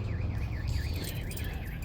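Thrift store electronic gadget emits a 90s-style car alarm tone, a repeating warbling siren that sweeps up and down steadily over a noisy background.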